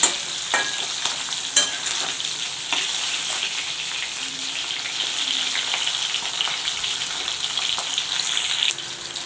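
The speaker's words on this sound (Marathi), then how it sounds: "आपल्याला इथे मिरची फ्राय करून घ्यायची दोघी साईडने छानपैकी परतून घेऊ" Green chillies fry and crackle steadily in a pan, with a continuous close sizzle and scraping stir strokes throughout.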